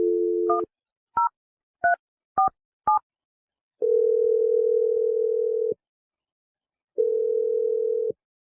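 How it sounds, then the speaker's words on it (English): A telephone is dialed: five quick touch-tone keypresses sound alone in a quiet room, then the line gives two long, steady ringback tones separated by a pause. "I'm going to dial Wendy's phone number"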